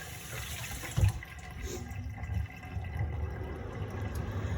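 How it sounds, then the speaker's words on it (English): Tap water runs steadily into a kitchen sink as a leafy vegetable is gently rinsed under it, a soft continuous splashing with one brief louder gush near the start. "we're gonna take it over here to our sink and we're just gonna give it a gentle rinse"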